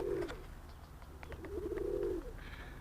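A Kazan x Old German Owl cross pigeon, an F2-generation bird, gives two low, soft cooing phrases close by, with faint rustling between them and no talking.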